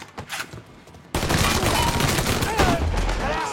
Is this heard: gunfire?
yes